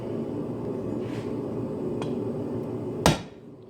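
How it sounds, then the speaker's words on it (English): A hammer blow forging hot steel for knife-making tongs, a single loud sharp strike near the end over a steady background hum, with a faint lighter tap earlier. "Turn it on its side like this and forge down."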